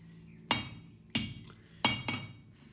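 A farrier's forging hammer strikes metal held in tongs on the horn of an anvil, four sharp ringing blows with the last two close together, each fading quickly into quiet.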